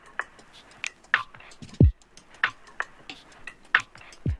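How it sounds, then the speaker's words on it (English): An original drum sample loop plays in FL Studio 20: short ticking hi-hat-like hits in a steady lo-fi pattern with one deep booming kick partway through, heard alone at moderate volume. "then I took one of their loops, replaced the kick and snare that they had with the kick and snare that I had"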